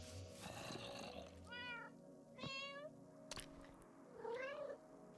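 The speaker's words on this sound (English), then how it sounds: "So we can feed 2 of these kitties." Minecraft cats meow several times in a mobile survival game, short rising and falling mews spaced apart with a soft background hum, fairly quiet and without talk.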